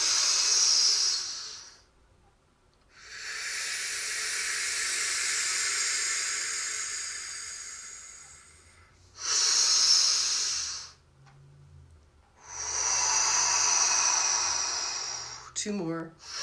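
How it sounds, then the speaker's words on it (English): Deep, slow inhalations through the nose during chair yoga sound as long hissing rushes of air, four separate breaths with quiet gaps between them, close and clear. "Breathing in through the nose fully and deeply."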